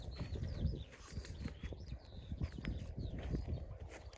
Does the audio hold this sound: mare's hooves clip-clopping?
yes